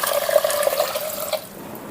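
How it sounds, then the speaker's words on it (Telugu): Water pours steadily into a container of rice for soaking, a running splashing stream that fades out toward the end. "నెక్స్ట్ సోక్ చేసుకోవాలి దీనికి వాటర్ పోసేసి నేను"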